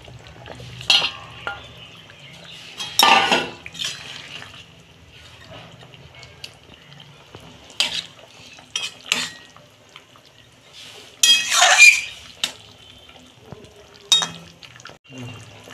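Fish goes into a pot of cooking potatoes for a simple fish curry, bringing scattered clatters of utensils against the pot, splashy sizzling bursts and quieter gaps, with a voice speaking at times.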